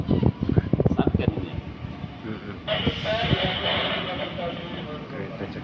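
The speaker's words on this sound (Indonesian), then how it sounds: "Kereta cepat sudah sampai." A high-speed train arrives at a station on the Bandung–Padalarang line, with rumbling and a rising mechanical roar after the first few seconds, heard near and steady under nearby voices and talk.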